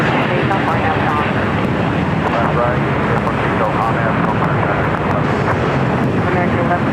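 Steady broadband roar of an airliner at LAX, a Boeing Dreamliner moving along a taxiway toward the runway, heard from a distance with wind buffeting the microphone and a voice talking over it throughout.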